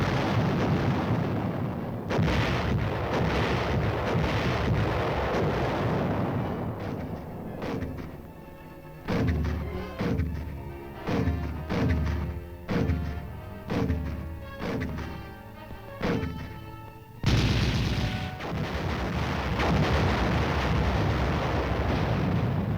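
Artillery barrage in archival Korean War combat footage: a dense run of heavy booms and blasts, with a rapid string of sharp, evenly spaced detonations in the middle and continuous loud rumble throughout, no talk.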